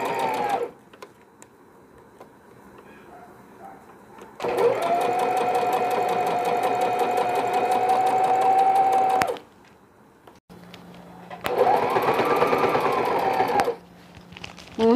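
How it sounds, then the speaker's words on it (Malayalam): A sewing machine stitches piping around three sides of a hanging laundry bag for babies, running in loud steady bursts of about five seconds and two seconds with quiet pauses between, and no talk over it. "മൂന്ന് സൈഡും പൈപ്പിംഗ് സ്റ്റിച്ച് ചെയ്യുക."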